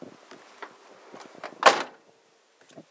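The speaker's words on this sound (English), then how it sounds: "Look, they don't move when you close the door." A Toyota Landcruiser door shuts with one solid thud midway, preceded by soft rustling and small handling knocks inside the cabin.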